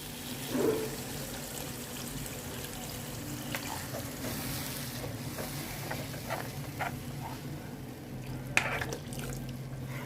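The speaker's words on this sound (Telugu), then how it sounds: "ఇప్పుడు వాటర్ వేస్తున్నాను" Water pours steadily into a curry pan of oil-cooked onion and tomato for several seconds, a continuous splashing wash with a few small clinks and knocks.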